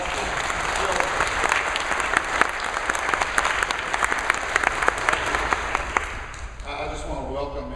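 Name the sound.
applause from an audience at a meeting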